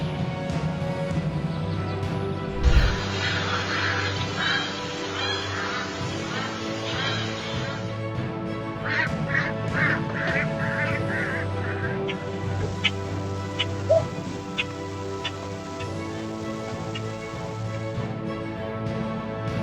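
A duck quacks repeatedly at close range during a hawk's strike from the forest edge, with a sudden thump early on, a burst of broadband flapping or splashing, and steady background noise underneath.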